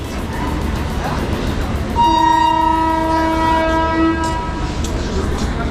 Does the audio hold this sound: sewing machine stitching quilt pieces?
no